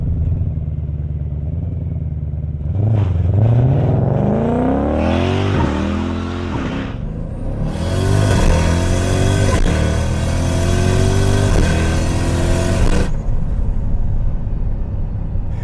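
Turbocharged 3UZ V8 in a Lexus GS launching hard from a standstill, recorded from inside, with a loud engine roar climbing in pitch through rising revs, a brief dip at a gear change, then a second strong pull.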